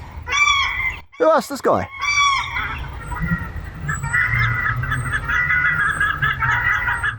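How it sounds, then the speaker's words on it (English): Flock of paradise ducks honking repeatedly at moderate distance, a steady chorus of nasal calls, with a voice speaking briefly over them near the start. "Look at them all. Paradise ducks."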